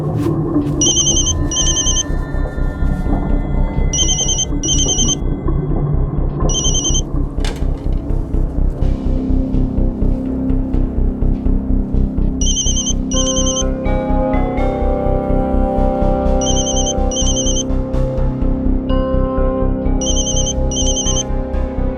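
A phone ringtone chirps in short repeated bursts, pausing between rings, over a steady loud background of music.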